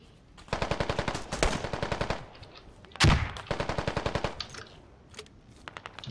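Rapid automatic gunfire in the video game Squad, several loud close bursts of evenly spaced shots with a heavier blast near the middle and a few scattered single shots at the end.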